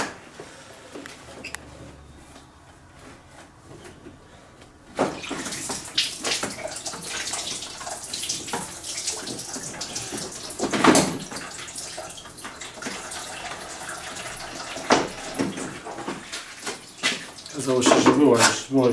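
Coolant splashes and trickles steadily from a disconnected radiator hose on a Volvo 240, a continuous close gush of liquid with clinks and shuffling of hands and tools, after a quieter opening stretch.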